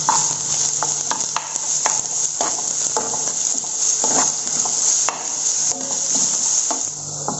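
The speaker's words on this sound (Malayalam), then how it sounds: "ഇഞ്ചി ഒന്ന് മൂത്ത് വരുമ്പോൾ നമുക്ക് സവാള ഇട്ട് കൊടുക്കാം." Chopped onion and ginger sizzle steadily in a pan while a spoon scrapes and stirs, giving repeated light clinks against the metal over a constant frying hiss.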